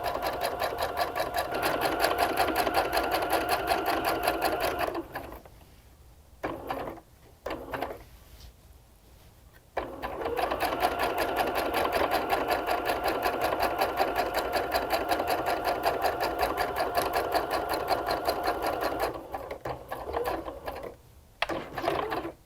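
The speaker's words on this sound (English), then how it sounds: "take 1 or 2 stitches across that corner, and then pivot and then stitch my next side" Home sewing machine stitching around the edges of a star appliqué pillow, running in a fast steady whir with two brief pauses partway through, then continuing close and clear.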